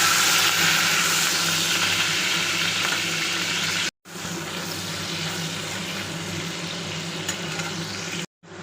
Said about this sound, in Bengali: টমেটো আর লঙ্কাগুলো ভালো করে ভাজা ভাজা হয়ে গেছে।